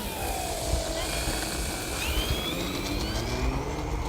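An E-flite T-28 1.2m RC model plane takes off outdoors, its electric motor whining in rising and gliding tones over steady wind noise, moderately distant and fairly faint.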